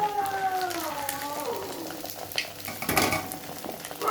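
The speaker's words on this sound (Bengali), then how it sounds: "এই দেখো এমন করে ভেজে নিচ্ছি" Cabbage and paneer fry in a pan with a steady broadband sizzle, stirred with a utensil that scrapes and clinks, with faint tonal background sounds early on.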